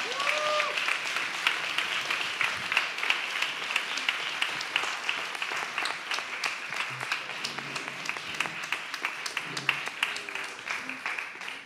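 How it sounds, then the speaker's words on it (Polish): Warm, continuous clapping from the crowd at the EFEKT 2021 awards gala in Stary Maneż, Gdańsk, lasting throughout at a steady level, with voices faintly audible beneath it. "Gorące brawa!"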